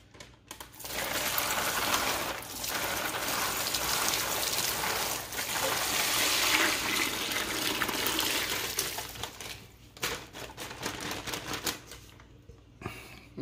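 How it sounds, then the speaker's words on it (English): Brine water pours steadily over a turkey for several seconds with a broad splashing rush, easing off into softer trickles and a few clinks near the end. "So let's pour this right over the bird."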